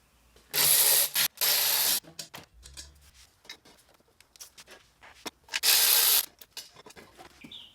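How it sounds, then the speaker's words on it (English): Bolts come off the intake of a Mercedes SL55 AMG with the M113K engine. A power tool gives three loud, close bursts of about a second each, separated by quieter metallic clicks, scrapes and rattles. "Mine are kind of bolted in, so I got to go take all my bolts off real quick."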